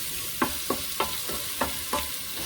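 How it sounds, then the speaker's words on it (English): Okra frying with spices in a pan, a steady close sizzle broken by five or six scraping stir strokes at a fairly regular pace. "give it a good stir so that spices and everything gets"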